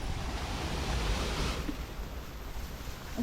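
Steady rushing rainwater fills the clip, a broad continuous roar as heavy monsoon flow spills over a channel in Konkan, close by with some wind buffeting the microphone.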